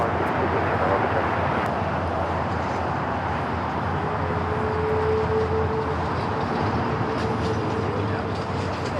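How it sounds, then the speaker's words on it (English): An SAS Airbus A350-900 arriving from Copenhagen lands on runway 25 left at LAX, producing a steady, broad jet roar that holds at an even loudness throughout. "This is SAS Flight 931 coming in from Copenhagen, A350-900."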